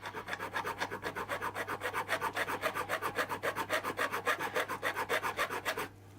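Steady rhythmic rasping of a multi-tool file stroking back and forth across the corner of an aluminium piece, dozens of quick even strokes, close and loud, then stopping abruptly.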